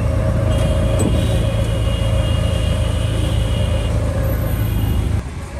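A right-hand-drive car carries steady, loud road and engine noise on the way into an Indian city, a continuous rumble with faint traffic tones above it that eases off near the end.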